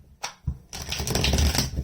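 Tarot cards being shuffled by hand, a few quick separate snaps followed by a dense, close rattling riffle that runs to the end.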